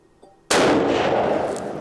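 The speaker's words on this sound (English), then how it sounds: "That was the last shot." A Winchester Model 70 rifle firing a .270 Winchester handload lets off a single sharp, loud shot that booms and echoes across open ground.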